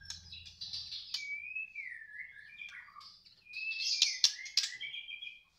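A young trotolan songbird of the Medan type sings alone in a run of bright, sliding whistles and quick chirps, clear and close, with a short low hum at the start.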